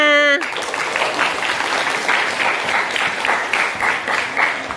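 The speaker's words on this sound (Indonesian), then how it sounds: "Tepuk tangan untuk Mbak Sania." A room full of people breaks into applause for Mbak Sania, dense clapping right after a brief voice, sustained and fairly loud to the end.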